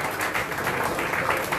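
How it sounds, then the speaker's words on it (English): Steady crowd applause fills a jersey unveiling event for the Dempo Challengers team, a dense even wash of many hands clapping at once with no breaks. "A round of applause for all of our team members"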